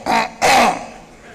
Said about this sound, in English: if I clear my throat the second time,